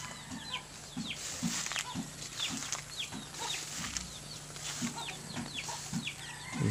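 Chickens cluck and crow on a farm, with repeated short calls scattered near and far over steady barnyard background noise and a low hum, and no one talks.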